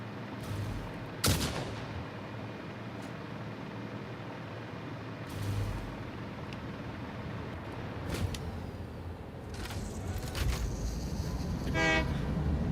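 A train placed in a factory-building video game runs along its track, giving a low rumble with loud sharp clanks and bursts and a rapid rattling toward the end, with no voices.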